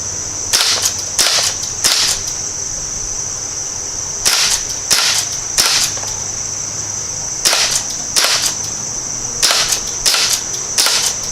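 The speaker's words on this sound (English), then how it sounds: "Now we're going to fire the Crosman." Crosman air pistol fired repeatedly, about ten sharp, loud cracks coming singly or in quick pairs and triples over a steady high-pitched background hum.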